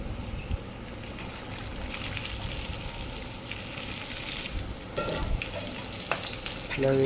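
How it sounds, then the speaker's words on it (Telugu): Maize garelu (vadas) deep-fry in hot oil, a continuous loud bubbling sizzle close by that swells near the end with a few metallic clinks, no voices. "వాటిని బాగా గోలించాలి"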